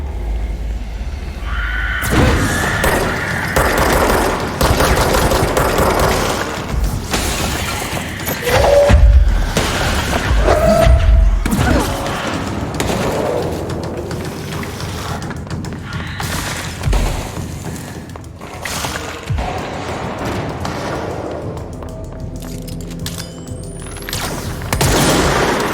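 Gunfire in the video game Control during a fight against many enemies, a long, dense stretch of booms, thuds and crashing impacts, loud and continuous with no talking.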